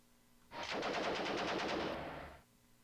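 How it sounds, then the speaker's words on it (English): A Sherman tank's hull machine gun fires in the Armoured Commander II game: one sustained rapid burst of about two seconds, loud and steady, starting and stopping abruptly with no talk. "So we'll switch over to the hull machine gun."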